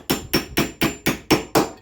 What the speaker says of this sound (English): Now we're going to have to get a socket and hammer this out from the other side.